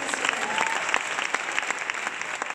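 An audience at an evening awards ceremony applauds, a dense, steady burst of many hands clapping that continues for a couple of seconds and then cuts off abruptly.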